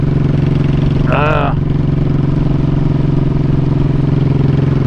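A Honda Shadow motorcycle engine idles close by with a loud, steady, even rumble throughout, and a brief voice cuts in over it early on.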